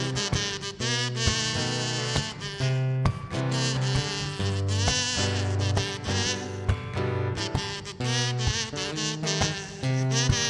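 A voice imitates a buzzing fly in a long, wavering drone on stage at a college performance contest, loud and close, sliding up and down in pitch with brief breaks.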